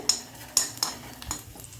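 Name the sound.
stirring chopped garlic in hot ghee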